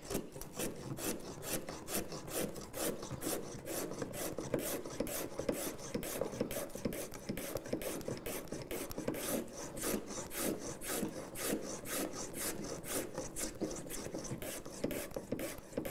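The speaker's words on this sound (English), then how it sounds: "you can actually go all the way along and you can actually chisel out a full groove" A chisel cuts a groove along a wooden board for a door, rasping and scraping in a fast, steady rhythm of short strokes close up, alone without talk.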